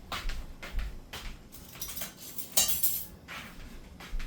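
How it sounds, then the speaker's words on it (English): A fork presses and scrapes butter into a corn mixture in a dish, giving a run of close, irregular metallic clinks and scrapes with short pauses between strokes. "I'm going to smash this little butter down into this mixture"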